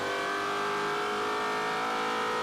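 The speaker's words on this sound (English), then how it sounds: "The car sounds amazing with Matos." TA2 race car engine driven by Matos at VIR in a SpeedTour race, a loud sustained high-revving engine note holding steady and slowly shifting pitch, close and continuous without talk.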